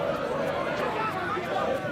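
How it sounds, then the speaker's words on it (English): A rugby crowd chants at a Friday night schools match between Merchant Taylors' and Reading Blue Coat. The dense, steady crowd roar and chanting sit beneath a commentator's voice. "The chants are coming out."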